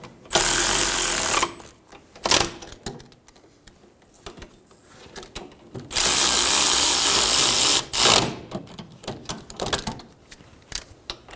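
A ratchet runs down the rear hub bracket bolts on a 2007-2011 Toyota Camry during a wheel bearing and hub swap: two long, loud, steady buzzing bursts, with shorter sharp bursts and clanks between them.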